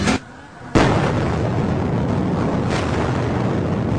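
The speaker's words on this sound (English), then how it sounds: "Explosions throwing huge plumes of smoke and debris in the air." Explosions from Israeli airstrikes on southern Beirut, a Hezbollah stronghold, hit with a sharp boom followed by a loud, sustained rumbling roar that fills the scene, heavy and close with no speech.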